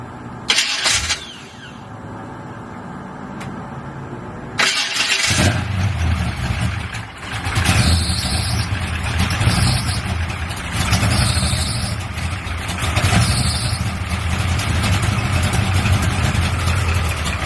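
A Chevrolet Cutlass engine cranks and catches, then settles into a loud, rough idle with pulsing revs, close by and with no talking.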